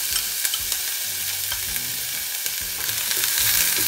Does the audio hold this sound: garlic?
yes